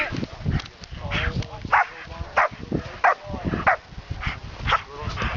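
A dog barks and yips in short, repeated bursts during Schutzhund bite training, fairly close, with people talking over and between the barks.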